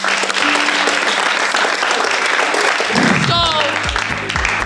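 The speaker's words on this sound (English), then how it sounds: "clap for them." A studio audience claps for quiz contestants at a school competition, dense sustained applause filling the room, with voices breaking in near the end.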